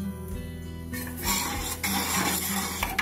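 Fried carrots stirred into milk in a pot for carrot kheer: a spoon scrapes and clinks against the metal in a few uneven strokes, close and moderately loud, with no talking.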